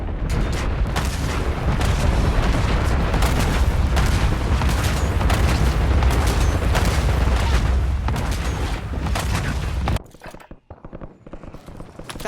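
Dense, continuous gunfire and booming explosions from the Black Ops 7 video game in holiday War Zone mode, loud and relentless for about ten seconds before cutting to a quieter stretch with scattered shots.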